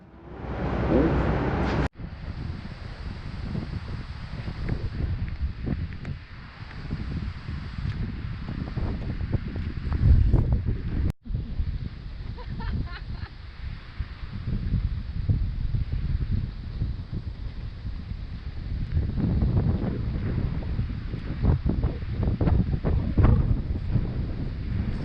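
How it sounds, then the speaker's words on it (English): Strong wind roars across the microphone outdoors at Green Lakes State Park, a loud, continuous rumbling buffeting with surging gusts and a brief cutout near the start, with almost no talking. "It's a windy one out here today."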